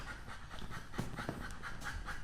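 A family dog pants steadily through a chiropractic adjustment, with quick, soft breathy puffs repeating close by under low handling noise and no speech.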